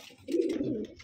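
A male pigeon coos in one low rolling burst close up while being handled for packing, with no talk over it.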